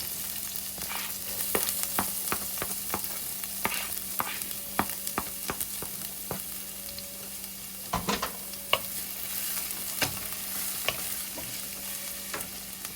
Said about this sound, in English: Then we're going to get our onions in there, and we're going to get our garlic in there.